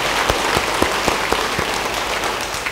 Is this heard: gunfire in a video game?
no